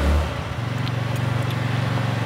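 A 2020 Royal Alloy GT150 scooter with a carbureted engine catches and settles into a steady, close, low putter at idle, its even pulsing running throughout with no talking.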